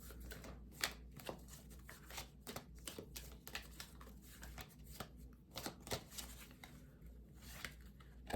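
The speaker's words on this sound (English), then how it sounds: "Gonna get a few more cards for group 2" Tarot cards being shuffled and drawn from a deck for a pick-a-card reading: a quiet, steady run of soft papery flicks and riffles with sharper card snaps scattered throughout, close and faint, with no talking.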